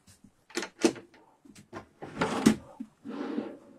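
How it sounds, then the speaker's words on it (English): Drawers on heavy-duty runners sliding open and shut inside an Evolve RV 18 SUV off-road caravan, a run of close, moderately loud rolling and knocking bursts separated by short pauses. "All of your drawers are on these heavy duty runners"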